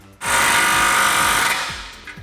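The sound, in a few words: 15mm socket tightening exhaust clamp on Camaro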